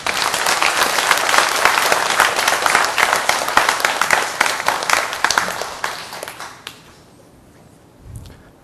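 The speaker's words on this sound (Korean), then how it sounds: "우리 청년들 격려하는 마음으로 한번 박수 한번 합시다." A church congregation applauds to encourage its young people, dense clapping filling the room for about six seconds before thinning out and fading, with a brief low sound near the end.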